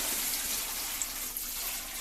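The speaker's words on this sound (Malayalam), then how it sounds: "നമ്മൾ ആദ്യം വേർപ്പിച്ച് വെച്ച മീനിന്റെ വെള്ളം നമ്മൾ അതിലേക്ക് ഒഴിക്കാൻ വേണ്ടി പോകുന്നു" Reserved fish stock is poured into a cooking pot for Kuwaiti fish machboos in a home kitchen: a soft, steady watery hiss and trickle, faint and continuous, with no talking.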